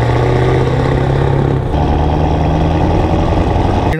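A 500hp manual LB7 Duramax diesel truck rolls down the road, its engine rumbling deep and loud from close by, with a brief dip around a gear change before the steady drone resumes.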